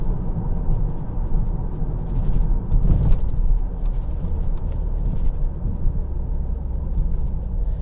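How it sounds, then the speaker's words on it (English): Wide tyres of a Vauxhall Insignia Elite CDTI Sports Tourer roll along the road, giving a steady, broadband low roar with constant loudness from start to finish, heard from inside the car and with no talk over it. "Only thing you probably hear now, tyre noise, because they are quite wide tyres"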